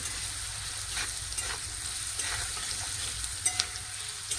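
Leafy greens fry in oil with turmeric and fried potatoes, a constant bright sizzle broken by soft scraping and stirring and a couple of small pops.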